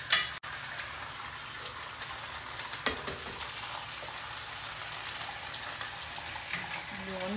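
Eggs fry in butter on a pan for a breakfast sandwich, a steady close sizzle with a sharp clatter at the start and small pops throughout.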